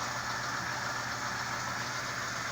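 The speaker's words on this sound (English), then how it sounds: "you hear the noise of the engine running" A Pontiac V8 car engine runs at idle, a faint, even, continuous hum with no change in pace, heard alone.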